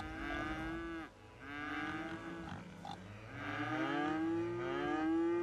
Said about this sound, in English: Lots and lots of mooing. The odd oinking of cows there.